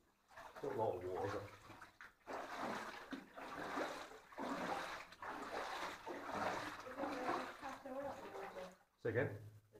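Feet splash and slosh through water while wading inside a flooded tin mine on the north Cornish coast, in quiet, uneven bursts mixed with voices talking nearby.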